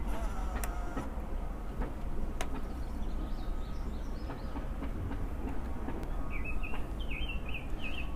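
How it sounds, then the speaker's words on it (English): A Sony CCD-V1 Video8 camcorder's tape mechanism whirs steadily and faintly, a continuous mechanical drone with a few soft clicks and chirps on top. "After it gets done whirring itself to death."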